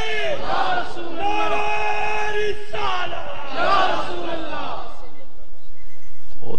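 A large crowd at a religious conference chants slogans in unison, loud massed voices rising and falling in repeated call-like phrases, close and filling the space.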